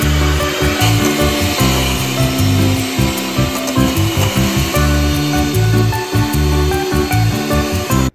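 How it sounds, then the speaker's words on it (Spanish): Egg whites being whisked until stiff for a tres leches cake: a loud, steady, rhythmic whirring and scraping that runs through the whole stretch with no one talking. "Ahora lo que vamos a hacer es batir los blancos hasta que queden blancos."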